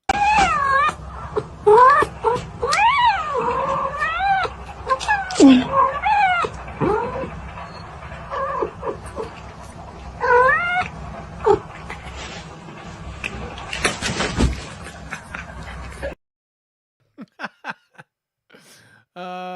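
A cat yowls and meows repeatedly in drawn-out, wavering cries over a low background, with a dog whimpering in places, then a brief burst of noise and a few quiet clicks near the end.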